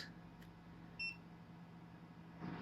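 A single short electronic beep from a refurbished EcoFlow DELTA 2 Max power station sounds once, clear and close, against a quiet low hum.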